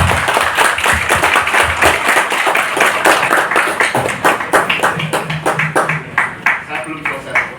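An audience claps together at a shooting club induction ceremony, dense and close at first, then thinning into looser, separate claps.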